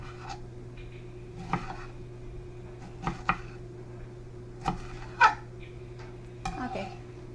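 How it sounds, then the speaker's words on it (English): Tomatoes are chopped with a knife on a board in a kitchen, several scattered sharp taps and thuds at irregular intervals over a low steady hum, with no voice. "This is the size I'm chopping my tomatoes to."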